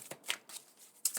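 A big deck of tarot cards being shuffled close to the mic, with about four quick crisp riffling bursts in just over a second, the first and last sharpest.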